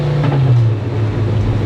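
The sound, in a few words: Garrett-turbocharged VW Passat engine in Porsche revving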